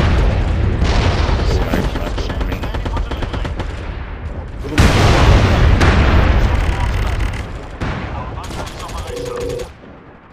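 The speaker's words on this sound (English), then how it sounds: "Watch out, it's gonna explode, Dave." Loud gunfire and a heavy explosion in the online shooter MAG, booming blasts and rattling shots filling the scene while players talk over the chaos.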